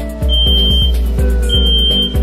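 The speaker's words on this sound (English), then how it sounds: "in 5 seconds you'll hear an alarm sound, which will become louder and louder" Equipment alarm on a cabinet sounding a steady high electronic tone over a low repeating pulsed beep that gets louder, warning of a blocked cabinet air grill.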